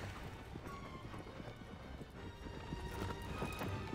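A horse in Shadow of the Colossus gallops with rapid, rhythmic clip-clop hoofbeats close by, joined by a neigh amid swelling background game sound.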